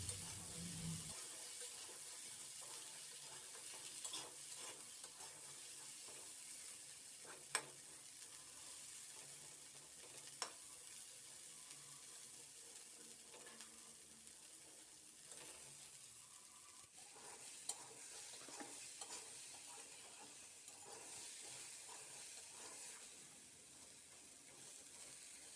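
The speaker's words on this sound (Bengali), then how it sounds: "এখন আমি ছোলার গায়ে লেগে থাকা জল শুকিয়ে যাওয়া পর্যন্ত আমি ভেজে নেব।" Boiled chickpeas frying in a pan, drying off their clinging water: a soft continuous sizzle with occasional stirring clicks and scrapes, steady and close throughout, no talking.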